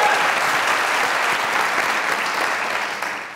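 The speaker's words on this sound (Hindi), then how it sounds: "तालियां बजाओ।" Studio audience on a Pakistani late-night comedy show bursts into sustained applause, a thick, even roar of clapping that holds steady and then begins to taper off near the end.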